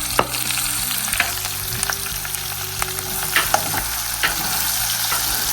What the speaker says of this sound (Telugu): ఇలా ఫ్రై అవ్వగానే మనం కొన్ని ఆనియన్స్ వేసుకుందాం ఫ్రెండ్స్.